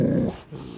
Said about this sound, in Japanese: 3頭もいる。 でっかい犬が。